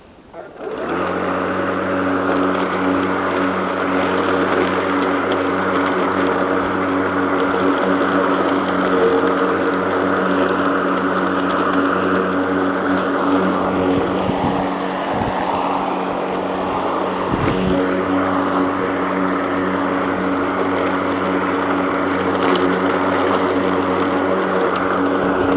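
An 18 inch Wild Badger 40V electric lawn mower runs steadily close by, a loud, even motor whine with a hum that holds for the whole stretch and dips briefly once.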